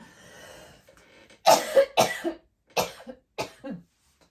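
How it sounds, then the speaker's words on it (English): Several sharp coughs in quick bursts, close and fairly loud, following a stretch of quiet background noise. "I'm gonna have to cough again"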